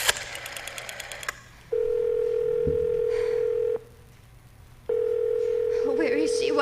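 A telephone dial tone in a radio drama, rising after a burst of clicking and holding steady for about two seconds, cutting out, then returning, with a faint voice briefly underneath.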